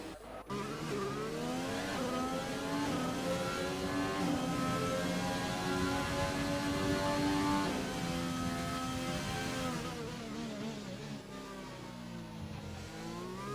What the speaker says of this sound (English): Two Ferraris having a little race on the intermediate tyres